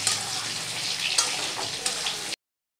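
Boiled potatoes fry in hot oil, a steady close sizzle with occasional louder crackles as they are stirred, ending abruptly in silence.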